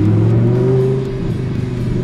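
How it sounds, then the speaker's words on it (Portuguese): An Audi R8 engine revs during a downshift, a loud, close, sustained tone that rises briefly and then settles, heard alone with no talk. "Que reduzida gostosa"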